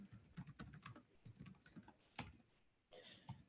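Fingers tap a computer keyboard in uneven bursts of close, crisp clicks with short pauses between them, quiet and without talk.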